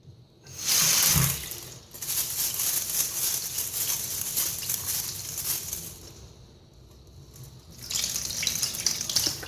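Kangkung seeds being washed in water: close splashing and running water in bursts, a loud gush at the start, a brief quieter lull, then renewed pouring, with no talk.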